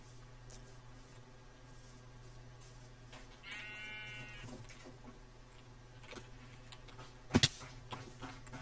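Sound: sheep bleating in Minecraft video game

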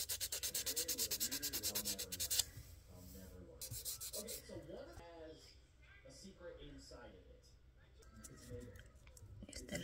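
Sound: buffing a fingernail with a nail file to remove shine

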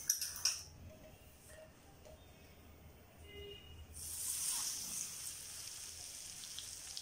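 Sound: hot oil being added to mango pickle masala and mixed

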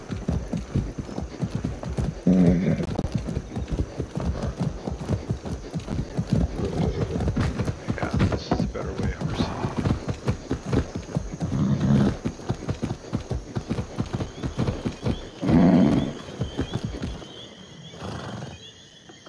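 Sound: horses trotting and neighing in video game Far Cry 6

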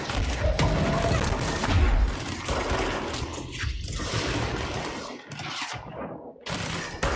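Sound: enemies firing rockets, from video game Control

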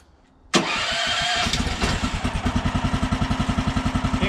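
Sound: sawmill engine starting up

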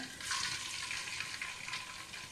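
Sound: eggs cracked and poured into frying pan

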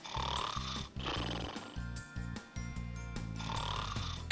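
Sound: snoring

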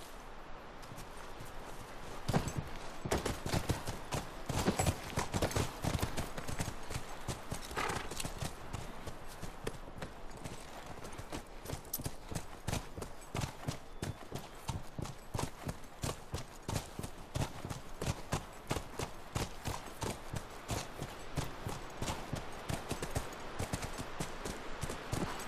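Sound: horse hooves clip-clopping, from video game The Last of Us

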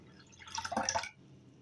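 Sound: pouring water into pot for pea soup

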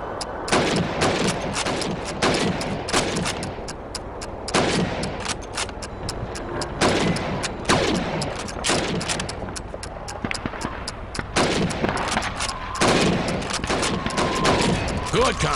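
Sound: rifle shots at helmets in Call of Duty 2 video game

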